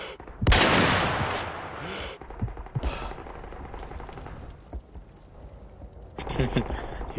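Gunfire in a team-ladder video game match, with bursts of loud shots early on, scattered quieter shots afterwards and another burst near the end, heard alongside other game sounds.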